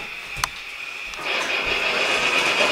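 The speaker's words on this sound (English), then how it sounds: "Whoa, look at that train go." A model train runs along its track with a steady rolling whir and faint clicking, a sharp clack early on and a high whine that grows louder as it picks up speed.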